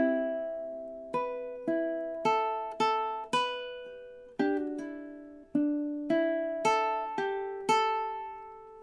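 Solo ukulele picks out two measures of a song, a dozen or so clean plucked notes in steady rhythm, each ringing and fading, heard up close.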